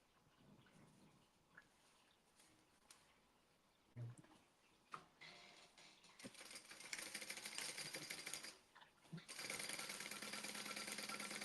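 A sewing machine top stitches fabric. It starts faintly amid scattered clicks and handling noises, then builds into a louder, continuous whir that carries on to the end.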